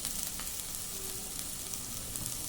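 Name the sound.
onions and broad beans frying in a pan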